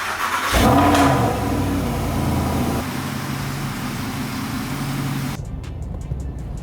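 A Mercedes SLS on the autobahn accelerates from a low engine note into a steady, rushing drone with road and wind noise. Loud and close at first, it runs continuously and thins out near the end.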